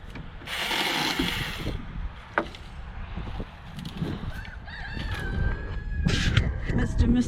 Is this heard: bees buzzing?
no